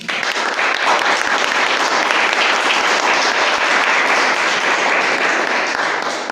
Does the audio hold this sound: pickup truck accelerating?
no